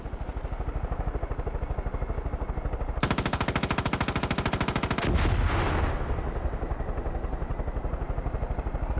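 In Far Cry 5, a helicopter's rotor thrums steadily while a sustained burst of rapid machine-gun fire rattles loudly for about two seconds, followed by a whooshing blast and the rotor continuing.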